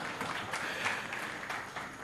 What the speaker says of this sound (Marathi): प्लीज टाळ्या वाजवा ना जरा,